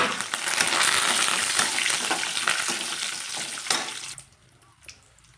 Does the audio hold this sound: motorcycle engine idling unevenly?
no